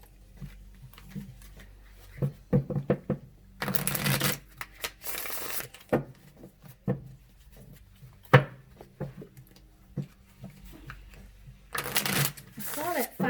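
Tarot cards shuffled and drawn, two longer rustling, riffling bursts of card shuffling with scattered taps and card handling between them, all under a person talking throughout.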